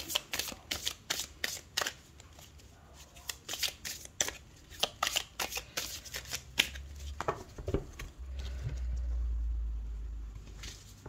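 A deck of tarot cards is shuffled by hand in a series of quick, crisp riffles and slaps, close and fairly quiet, followed by a low rumble near the end.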